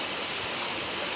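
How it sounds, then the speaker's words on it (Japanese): A small, knee-deep river at a campsite in Shimizu, Hokkaido flows with a steady, broad rushing wash, close and constant throughout the short stretch with no voices. "今皆さん音声多分入ってて聞こえると思うんですけど、目の前が川、小さい川ですね"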